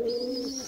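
A domestic pigeon coos close by in a loft while feeding its chick, one short, clear, throaty call that fills the whole moment with no speech.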